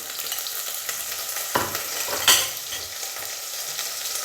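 Onions sautéing in a pan for a Sri Lankan-style fried drumstick curry give a steady close sizzle, broken by a couple of sharp stirring knocks in the middle, with no talking.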